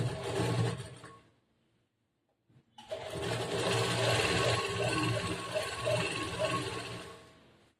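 A sewing machine stitching a churidar top runs in a short burst, stops for a pause, then whirs steadily again for several seconds, close and loud with no voices.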